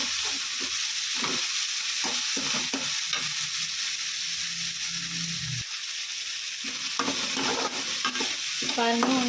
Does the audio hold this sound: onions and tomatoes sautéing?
yes